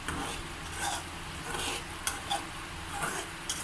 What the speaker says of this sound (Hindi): देखिए सूजी हमारी आहिस्ता आहिस्ता भून रही है।